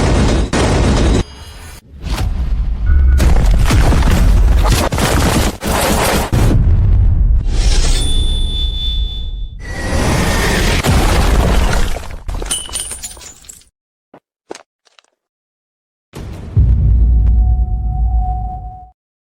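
Loud gunshots and crashing impacts in a drama scene arrive as dense bursts with whooshes and booms, then a sudden near-silence and a final loud burst.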